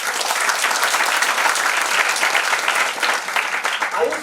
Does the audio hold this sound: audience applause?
yes